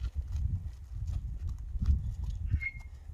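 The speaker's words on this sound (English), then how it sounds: "This is the mini horses" Mini horses move about nearby, their hooves clip-clopping in an uneven, shuffling rhythm on the ground, with faint background murmur.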